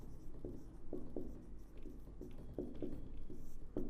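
Pen or chalk writing on a board during a maths lesson, soft scratchy strokes and taps in short irregular bursts, quiet and close with no talking over them.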